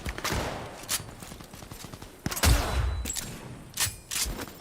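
Bursts of gunfire from a Cyberpunk 2077 vehicle chase sound at moderate distance: several quick cracks with a heavier, booming volley near the middle and more shots toward the end, over low game ambience.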